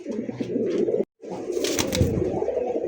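Several pigeons, including racing, satin and giribaz breeds kept for sale, coo close by in a dense, steady chorus of low throaty calls, broken by a brief gap.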